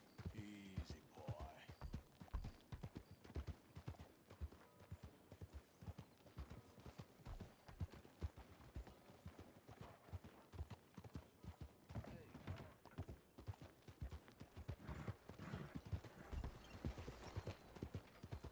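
Horse hooves clip-clop in a steady, continuous rhythm in the video game Red Dead Redemption 2, fairly faint and close, with a soft background rumble.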